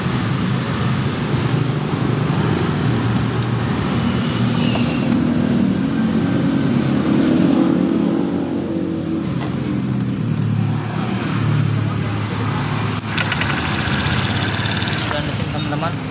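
A Honda Vario 125 scooter that won't idle properly is started and runs with a loud, steady, close engine rumble that continues throughout without breaks.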